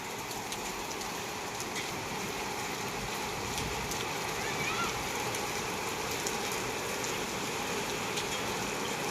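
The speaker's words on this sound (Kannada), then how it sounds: "ಬಟ್ ಮಳೆ ಚಾಲು ಆಗೈತಿ." Steady, dense rainfall hisses continuously throughout, a broad even wash of noise with no breaks, fairly close.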